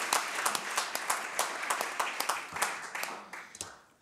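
Audience applause at a panel debate on whether there is room left for the 'little guy', with scattered claps ringing out steadily and tapering off near the end.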